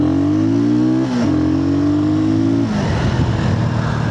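A Sothassi 400 Classic motorcycle accelerates hard, its loud close engine note climbing steadily through a gear change and continuing to pull, with no talking.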